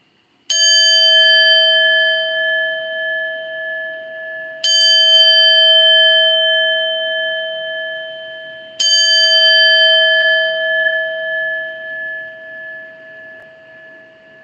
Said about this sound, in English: when you hear that bell